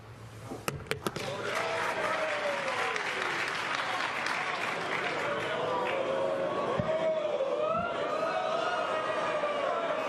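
Crowd at an elite professional billiards match bursts into sustained applause and cheering after the cue ball finishes on the rail, with a few sharp clicks at the start, then a steady, dense roar of clapping.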